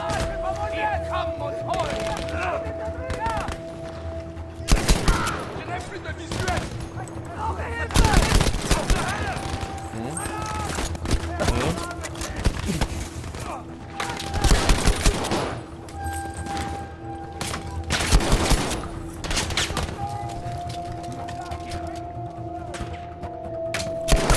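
Heavy gunfire in Battlefield V, with dense bursts of rifle and machine-gun shots cracking close by and continuing through the whole stretch, punctuated by louder blasts, with a voice speaking now and then.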